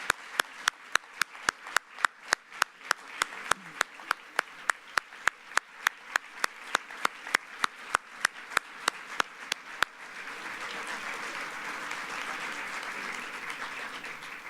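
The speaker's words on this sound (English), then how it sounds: "Let's have another round of applause, please, for the secretaries." Another round of audience applause at the 2017 Iowa Hunger Summit, opening with single sharp, evenly spaced claps that give way after about ten seconds to a dense, sustained wash of clapping from the crowd.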